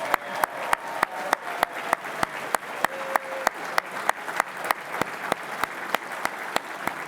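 An awards banquet audience gives a standing round of applause, with steady clapping and sharp rhythmic claps repeating throughout at a moderate distance.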